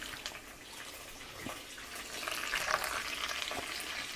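Baby bok choy, onions and nuts frying in a pan, a steady close sizzle with faint crackles and stirring scrapes, no talking.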